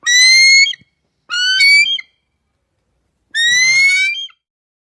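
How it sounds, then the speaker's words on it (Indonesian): A recorded eagle call played back to drive rats away: three loud, shrill, piercing screeches with strongly tonal upper harmonics, each lasting most of a second, spaced by silent gaps and heard alone. "Untuk yang pertama, suara burung elang."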